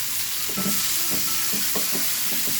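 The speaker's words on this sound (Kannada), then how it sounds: "ಟೊಮೊಟೊ ಸಾಫ್ಟ್ ಆಗೋ ಫ್ರೈ ಮಾಡ್ಕೊಳ್ಳೋಣ" Chopped tomatoes fry in a pan over a medium flame, giving a steady, loud sizzle with intermittent scraping stirs, and no talk.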